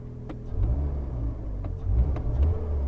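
An old car's engine idles steadily with a low, rumbling note after starting, with a few faint clicks and taps over the drone.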